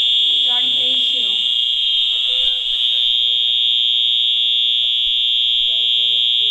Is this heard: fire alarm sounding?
yes